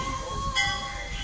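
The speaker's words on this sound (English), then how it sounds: "Alright, the Jetta Coolio steam engine is going by." A steam locomotive train rumbles past at close range, a steady low roar with a brief swell in the middle; no voices.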